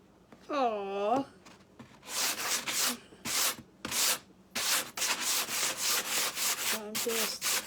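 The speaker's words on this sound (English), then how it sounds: "I'm just sanding it lightly." Repeated short strokes of hand sanding rasp against wood in an uneven rhythm, close up, with a brief voice at the start and end.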